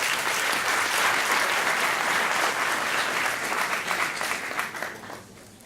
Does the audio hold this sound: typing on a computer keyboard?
no